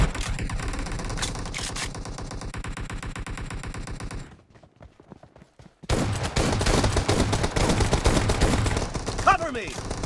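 Rapid bursts of gunfire from a PUBG team deathmatch game crackle loudly and densely, dropping out briefly midway before a renewed heavy barrage of automatic shots.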